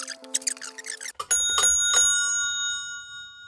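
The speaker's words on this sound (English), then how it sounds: "someone put a Band-Aid over one of these bells" Old telephone ringer bells, one partly muffled with a bandage, ring out in a loud metallic burst that rings on and fades after a short stretch of clicking and tones.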